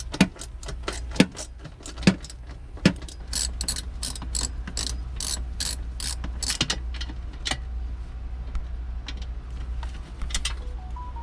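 Bolts being backed out of the battery access panel on a 2022 Mercedes Sprinter van with a 10 mm socket: a few sharp ratchet clicks and clanks early on, then a rapid run of metallic ratcheting bursts over a steady hum.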